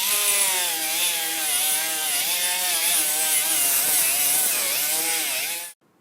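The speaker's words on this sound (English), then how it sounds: "I'll use an abrasive disc to grind away the chrome every place I'm going to put a weld" An abrasive disc grinding chrome off a bicycle frame, a loud, steady whining grind with wavering pitch that holds for nearly six seconds before cutting off abruptly.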